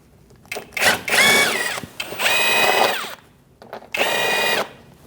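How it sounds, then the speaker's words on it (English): A power tool fitted with a 7mm socket backs out a small bolt during front ABS wheel speed sensor replacement on a 2008-2014 Mercedes-Benz C300, sounding as three close, loud whirring bursts with brief pauses. "Using a 7mm socket, we're going to take out this little bolt."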